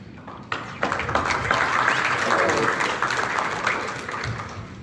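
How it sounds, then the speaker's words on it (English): A symposium audience on sustainable tourism in Belize applauds, with dense clapping that starts abruptly, holds steady and loud, then thins slightly toward the end. "Thank you for the round of applause"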